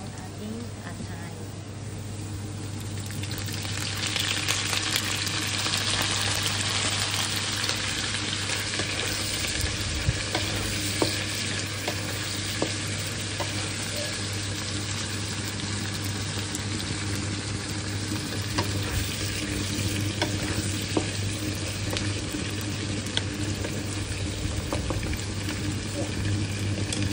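Chicken liver sizzles and spits steadily in a hot pan, a continuous frying hiss with occasional stirring scrapes that swells from about four seconds onward and holds close and loud to the end beneath a low steady hum.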